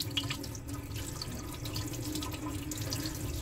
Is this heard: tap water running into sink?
yes